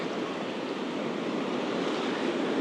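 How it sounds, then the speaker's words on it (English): Ocean waves crash against black cliffs on the coast near Dublin, Ireland, heard as a steady, dense roar of surf and wind with no break and no voices. "You can see the waves crashing up against those black cliffs over there."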